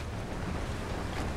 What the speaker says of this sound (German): Ja, der Wind ist jetzt genau gegen uns.